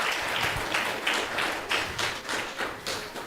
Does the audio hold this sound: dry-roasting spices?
no